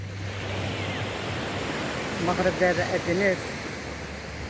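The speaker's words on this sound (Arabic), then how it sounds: "موج البحر كيقلبو" Sea waves wash steadily onto the shore at Targha on the Moroccan coast in a broad continuous roar, while someone talks briefly over the surf.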